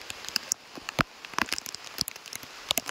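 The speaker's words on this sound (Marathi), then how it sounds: "पावसात भिजायला मजा तशी वेगळी, खतरनाक अशी मस्तपैकी मजा." Rain falling in a village forest, with scattered, irregular drops pattering on leaves and nearby surfaces over a quiet background. No one speaks.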